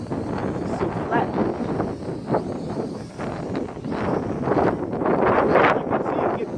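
Strong wind buffets the microphone near a flying MJX X600 drone over flat open ground, a steady loud roar with gusts swelling toward the end, a voice talking over it.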